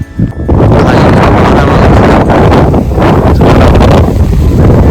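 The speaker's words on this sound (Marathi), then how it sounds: "समजेल तुम्हाला वारा कसला सुटला" Strong wind on Harishchandragad mountain roars steadily into the microphone, a loud, constant low rumble with gusts swelling and easing.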